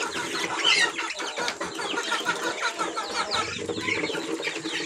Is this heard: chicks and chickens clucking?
yes